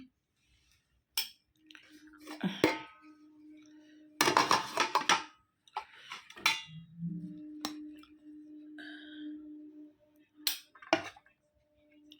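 Scattered clinks and scrapes of a serving spoon against a plate as rice is served, with brief muffled scooping sounds between quiet pauses.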